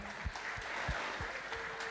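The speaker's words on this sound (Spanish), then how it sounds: "dar un fuerte aplauso de bienvenida a algunas personas que nos están visitando" A church congregation claps in welcome, a moderate and fairly distant patter of applause from many hands that continues steadily throughout, with a faint murmur of voices underneath.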